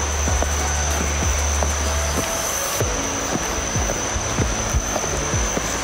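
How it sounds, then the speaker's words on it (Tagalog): Steady, broad rushing roar of Ingkumhan or Pahangog Falls in Dimiao, Bohol, carrying unbroken through a forest setting, with faint chirping calls scattered over it and no speech. "yung tunog ng waterfalls"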